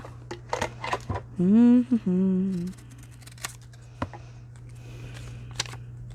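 Scissors cut a stamp card. Several crisp, separate snips are spread across the moment, with a brief hummed voice in the middle and a low electrical hum underneath.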